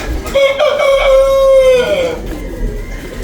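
A chicken kept beside pigeons in a racing pigeon loft gives one drawn-out, fairly loud call close by, with the sound tailing off into quieter background noise afterward.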